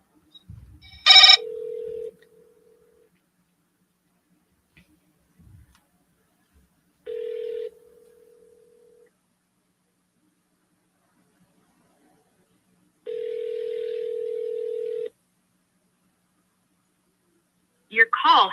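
A telephone call placed back to a real estate seller gives a short dial burst, then three long ringback tones spaced apart, with silence between them and a brief voice at the end.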